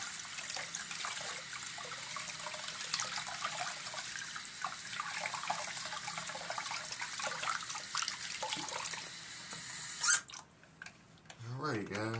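Running water rinsing a diecast model car, a steady splashing stream with handling noises, the flow cutting off near the end.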